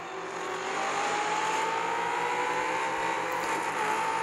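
A Brabham BT62 with a naturally aspirated V8, no hybrid or turbo, drives in a racing video game. Its engine drones steadily and loud while the pitch climbs slowly under sustained acceleration.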